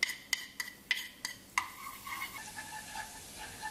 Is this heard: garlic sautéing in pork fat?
yes